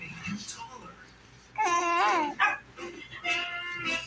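Dogs barking, yipping and whimpering at close range in a home, with excited bursts and whines mixed among a person's talking.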